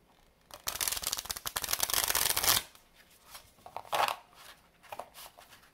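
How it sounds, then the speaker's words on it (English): A mini tarot card deck being rifle shuffled, a loud rapid fluttering riffle of cards lasting about two seconds, followed by several softer taps and riffles as the small deck is squared and handled, with no talking. "Let's try to do some rifle shuffling."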